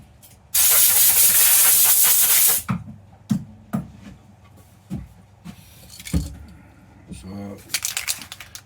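Compressed air blows dust off a sanded, painted routed sign before top coat, a loud close hiss lasting about two seconds, followed by quieter handling knocks and a voice speaking nearby.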